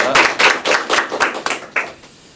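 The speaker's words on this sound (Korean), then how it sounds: "큰 박수 부탁드립니다." A crowd applauds a student team's presentation on short-form video addiction and digital detox, with several bursts of clapping that fade out within a couple of seconds.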